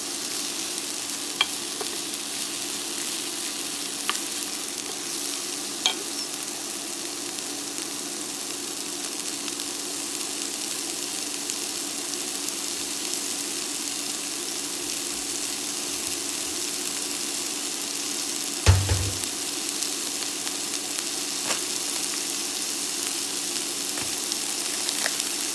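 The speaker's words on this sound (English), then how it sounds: "Sauté these for a few minutes." Green peas with mint sauté in a pan with a soft, even sizzle that carries on for a long stretch, plus a few faint clicks and one brief knock.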